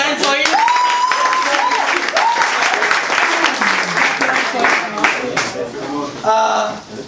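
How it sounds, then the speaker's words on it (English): Audience clapping for a competitor at a 2016 competition, steady dense applause running through, with voices and musical tones heard over it. "Clap your hands for him."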